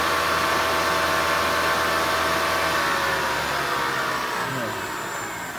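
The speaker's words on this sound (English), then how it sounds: "The spindle sounds impeccable." The spindle of an Acra AM3 CNC vertical milling machine with a variable-frequency head runs with a loud, steady whine and hum, close and continuous, easing off slightly near the end.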